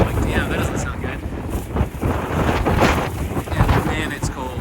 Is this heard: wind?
yes